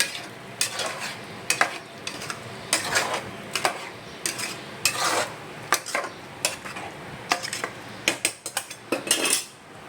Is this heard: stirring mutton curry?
yes